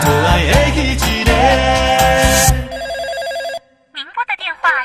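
A telephone rings inside an old Taiwanese Hokkien pop duet, its repeating electronic ring sounding loud over the music and then alone in a brief pause before more ringing bursts.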